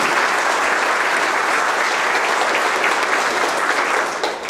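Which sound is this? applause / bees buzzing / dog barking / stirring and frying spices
applause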